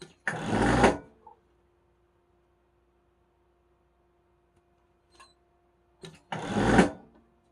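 A sewing machine stitches around a waistband of trousers before the elastic goes in, in two short, close bursts of rapid stitching separated by several seconds of near silence.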